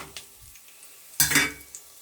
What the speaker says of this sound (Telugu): మిరియాలు రెండు ఆకులు బిర్యానీ పువ్వు చెక్క బిర్యానీ మసాలా మొత్తం ఫ్రై చేసేసుకుందాం